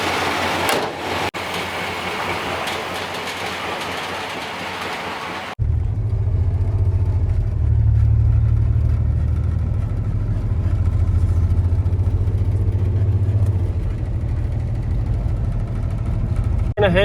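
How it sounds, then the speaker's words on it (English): An OBS-era GMC pickup truck engine comes to life after some handling noise and rumbles steadily at low pitch as the truck drives off, its drone holding close and even throughout. "The truck's actually driving pretty good."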